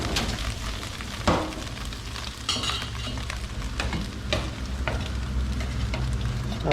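Food being stirred in a hot pan, a steady crackling sizzle of frying with scraping and clattering stirs, close and continuous, no talking.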